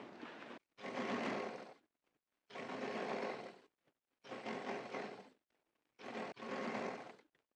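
A sewing machine stitches elastic onto a trouser in four loud, close bursts of whirring, each lasting about a second, with short pauses between them.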